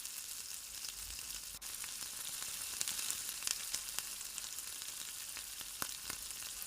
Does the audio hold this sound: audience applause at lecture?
no